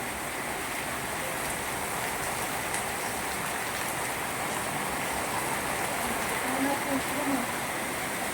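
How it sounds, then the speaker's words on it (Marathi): Heavy monsoon rain pours down in Udgir, Maharashtra, making a dense, unbroken roar of water that stays loud and constant throughout. "उदगीर येथे मुसळधार पाऊस आहे"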